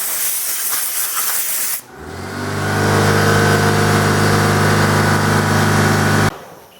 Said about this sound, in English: I take a quick blast with the air hose